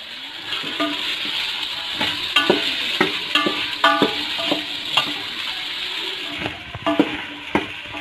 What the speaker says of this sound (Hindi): तीन से 4 मिनट हम इसको फ्राई करेंगे।